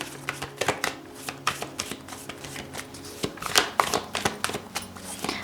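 Tarot cards shuffled by hand in a quick run of crisp riffling flicks and soft slaps, close and fairly loud, with no talk over it.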